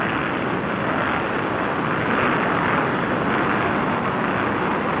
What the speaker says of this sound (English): We appear to be in a normal first stage burn. The engine burn here continues to look good,